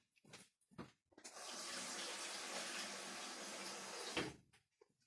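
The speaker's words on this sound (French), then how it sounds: "je vais juste mettre de l'eau" Tap water runs steadily for about three seconds, poured in for a chicken and olive dish, framed by soft kitchen knocks and handling noises before and after.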